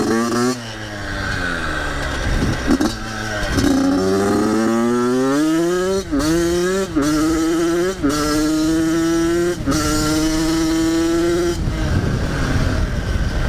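A rebuilt Yamaha YZ85 dirt bike with bald tires revs hard and close up, its engine pitch climbing and dropping in repeated rising sweeps with brief gaps between blips; a voice is heard faintly.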